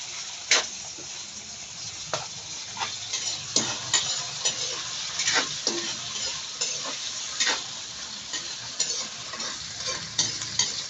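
Meat added to tomatoes frying in a pan for pinakbet, giving a continuous crackling sizzle broken by sharp clicks and scrapes of a utensil against the cookware.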